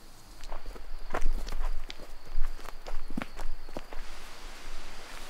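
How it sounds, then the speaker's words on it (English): Footsteps crunch steadily through forest ground in remote Périgord woodland, close and irregular, with a thin constant high tone and soft background hiss beneath; no talking. "You have all the sound of the forest."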